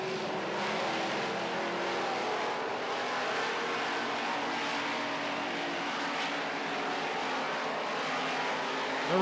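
Midwest modified race cars roar around a dirt oval late in a feature race, a dense, steady engine drone from a pack of cars with rising and falling passes throughout.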